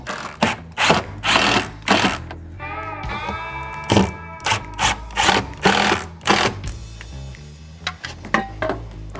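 Power drill driving screws into an attic access door jamb, heard as a steady whirring run followed by a string of short, rhythmic bursts and light clinks, close by.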